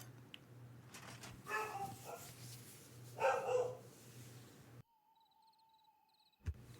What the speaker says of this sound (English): I do apologize if you can hear my dog downstairs.